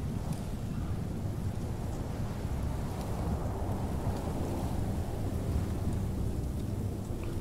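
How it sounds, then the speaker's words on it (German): Rain and wind from a thunderstorm form a steady, dense roar with low rumbling, constant in loudness and moderately faint, with no voices over it. "Der Sturm."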